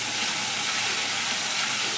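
Chopped onion and tomato with salt sizzle in a pan, a steady, close hiss of frying with no talk.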